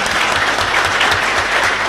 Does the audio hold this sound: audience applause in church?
yes